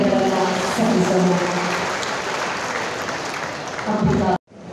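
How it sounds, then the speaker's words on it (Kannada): An audience at a Revenue Department Day function in Kolar district applauds loudly and steadily for about four seconds before the clapping cuts off abruptly. "ನಮ್ಮೆಲ್ಲ ಒಂದು ಚಪ್ಪಾಳೆಯಲ್ಲಿ ಇವರಿಗೆ ಅಭಿನಂದನೆಗಳನ್ನು ಸಲ್ಲಿಸೋಣ."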